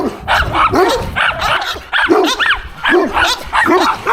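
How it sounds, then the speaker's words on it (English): Dogs bark continuously at horses stopped on a Tennessee trail ride, a close, loud run of overlapping barks and yips with no break. "So I'm just gonna sit here and let the dogs bark."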